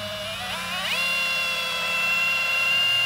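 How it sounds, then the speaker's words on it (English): A hammer drill runs in hammer mode during a backyard trampoline tie-down job, giving a steady, close, high-pitched whine that climbs in pitch partway through and keeps going without a break to the end. "Yeah, that's a hammer drill now."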